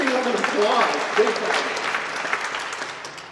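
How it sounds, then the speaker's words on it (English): Clapping from an audience at a Boys & Girls Club youth arts presentation, a dense burst of hand claps that is loud at first and then tapers off over a few seconds, with voices mixed in. "that is deserving of an applause"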